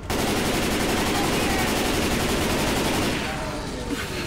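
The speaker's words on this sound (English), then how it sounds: "I'm shooting him, I'm shooting him." Rapid sustained gunfire in the co-op zombie video game Left 4 Dead, a dense, loud, continuous burst of shots that eases slightly near the end, with no talk heard.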